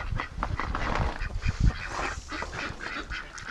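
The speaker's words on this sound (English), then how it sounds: "All the duckies are out and they're quacking" Muscovy ducks and drakes quacking and honking outdoors, several birds calling over one another in a busy, continuous stream, fairly close.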